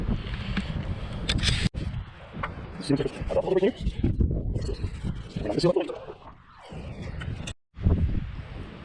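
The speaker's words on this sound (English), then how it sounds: "It's kind of windy" Gusty wind buffets the microphone outdoors during backhoe repair work on a Ford 420, a rough rumbling roar rising and falling, with someone talking throughout.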